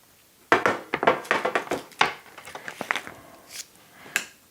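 A knife slices bacon in half on a cutting board, a quick run of close, crisp taps and thuds against the board with a few softer cuts following.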